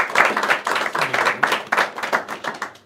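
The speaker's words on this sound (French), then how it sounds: "je pense qu'on doit vraiment applaudir les parents" Audience clapping for the parents at a basketball event, a short burst of dense hand claps that stays steady and fairly close, then tapers off toward the end.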